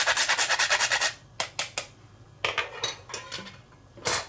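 Whole nutmeg grated by hand over a white sauce for lasagna: a quick run of rhythmic scraping strokes, then a few scattered, irregular scrapes, close and fairly clear, with no talking.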